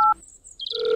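A phone is dialed to call the police: a short keypad tone, a brief pause, then chirpy electronic tones and a steady ringing tone, close and clear.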